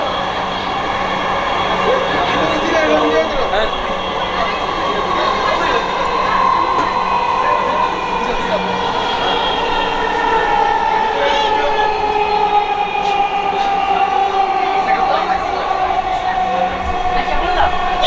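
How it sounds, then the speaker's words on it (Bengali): Steady rumble and rail hum from inside a Dhaka Metro Rail train in motion, a continuous close ride noise with droning tones holding evenly throughout. "এই হচ্ছে মেট্রো রেলে আমরা যাচ্ছি।"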